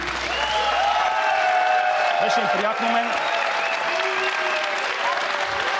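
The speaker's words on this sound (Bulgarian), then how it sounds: "Ами аплодисменти за Добромир!" A studio audience on a television quiz show gives a contestant named Dobromir a warm, even burst of applause, with people talking briefly over the clapping.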